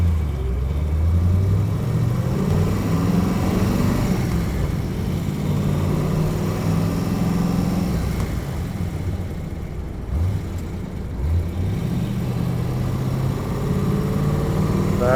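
A 1969 Chevrolet Camaro Z28, a restored car with manual gearbox and clutch, drives down the road with its engine running steadily throughout, a loud low rumble with shifting pitch as it revs, road noise underneath and no talking.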